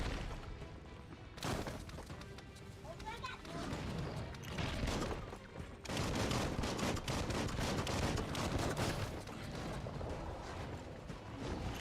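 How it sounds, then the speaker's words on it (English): Gunfire in the video game Biomutant comes as dense, chaotic volleys of rapid shots and impacts with mechanical clatter. The fire starts suddenly and keeps up loud, near-continuous intensity, with speech heard partly over it. "Bullets everywhere."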